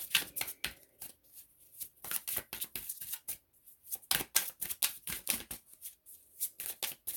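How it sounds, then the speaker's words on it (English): Tarot cards being shuffled by hand in quick, repeated riffling bursts, close and crisp, with no talking. "this is the Twin Flame Journey Tarot by Mystic Moon. I'm going to pull a few cards."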